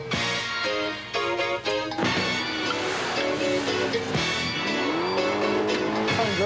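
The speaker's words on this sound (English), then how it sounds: "This is street racing, where an entire race takes about 11 seconds." Street racing cars from 1981 accelerate hard off the line over a quarter mile, engines loud and continuous with rising pitch sweeps, set against steady background music.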